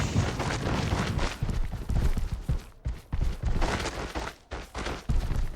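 A Confringo blasting spell goes off in the Hogwarts Legacy video game, a burst of loud booming blasts and crackling impacts with brief gaps between them, close and heavy.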